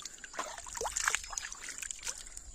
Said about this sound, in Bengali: এই পুকুরের জলে হাত মুখ ধুয়ে নিচ্ছি